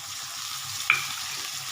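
Garlic and spices fry in a pan for a fish-head cabbage dish, giving a steady, soft sizzle with a brief scrape of stirring partway through and no talk.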